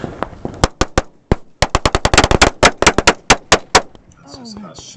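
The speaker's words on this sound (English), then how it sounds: "it's just us shooting back" Automatic and rapid rifle fire from soldiers returning fire in a combat firefight, a dense burst of loud sharp shots in quick irregular succession, with shouted voices and commotion as the shooting stops.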